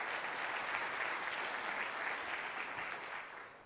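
An audience applauds after a conference talk, a dense, sustained clapping from a sizable crowd that stays steady and then begins to taper off at the end.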